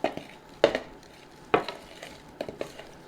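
All-purpose flour and baking soda mixed in a bowl, a spoon or whisk scraping and tapping against the sides in a few separate strokes, close and fairly quiet.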